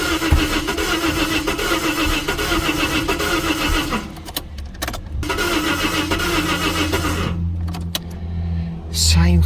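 The starter of a Jaguar XJ40 cranks the engine in two long bursts separated by a short pause, close and loud, with a voice briefly audible in the background.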